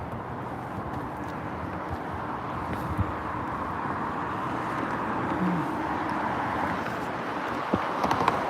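Cars drive along a Kaliningrad city street and thump over road joints, a steady broadband traffic rumble with faint wind that runs through the whole stretch, plus a few brief knocks near the end.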